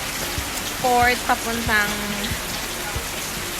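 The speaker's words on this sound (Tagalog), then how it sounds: "Ayan, ang lakas ng ulan." Heavy rain pours in town on Boracay, a dense, steady hiss filling the background while a person speaks briefly over it.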